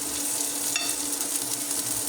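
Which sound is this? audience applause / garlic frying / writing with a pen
garlic frying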